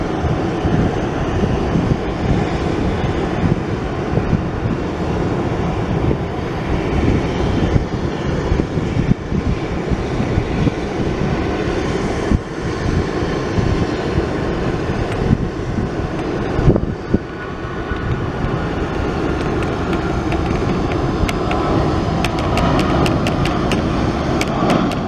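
A Southwest airliner coming in to land makes a loud, steady, broadband roar that holds for the whole stretch, with wind buffeting the microphone.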